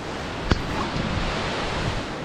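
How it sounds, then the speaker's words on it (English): A rushing waterfall fills the whole stretch with steady, dense broadband roar, with a single sharp knock near the start and no voices. "So we got another waterfall now."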